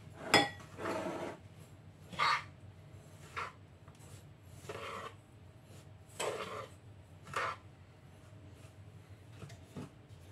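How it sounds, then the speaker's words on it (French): Grated coconut is stirred with vanilla sugar in a bowl, giving soft rubbing and scraping strokes of a utensil against the bowl. The strokes come in an uneven rhythm with faint clinks, close and quiet, and no voice is heard. "Je mets avec le sucre vanille. Et je mélange."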